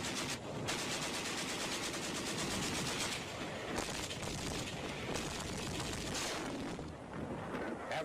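Dense, continuous machine gun and small arms fire from a WWII battle on Sugar Loaf Hill, Okinawa, rattling steadily and loudly throughout with overlapping bursts and no pauses.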